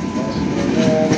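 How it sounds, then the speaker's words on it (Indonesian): Commuter train rolling into Tanjung Priok station, a steady close rumble of wheels and engine with tonal hum, no breaks over the short stretch. "Masuk stasiun Tanjung Priok coy."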